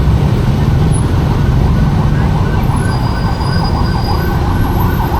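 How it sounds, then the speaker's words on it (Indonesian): Emergency siren wailing steadily through dense city traffic near Purwakarta, Indonesia, loud and continuous with a constant road rumble and passing vehicles underneath, heard from a motorcycle stuck in a jam. "Kita kasih dulu ambulan lewat."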